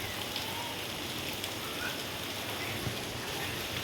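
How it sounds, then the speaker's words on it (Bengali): Steady rain pours down outdoors in a dense, continuous hiss, with no voices over it. "আর এখন তো বৃষ্টি পড়ছে"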